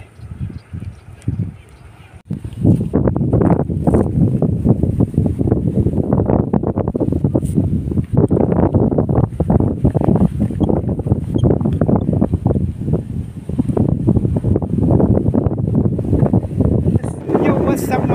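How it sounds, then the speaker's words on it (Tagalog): Strong gusting wind buffets the microphone with a continuous loud roar, while voices talk faintly underneath. "sobrang lakas ng hangin"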